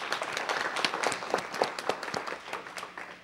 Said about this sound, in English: Everyone, please, let's give them a round of applause.